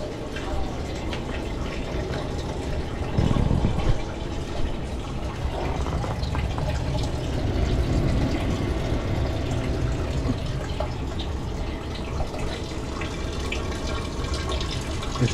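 Water drains steadily from a thawing, completely frozen evaporator coil, a continuous trickling and splashing flow with occasional drips, moderately close.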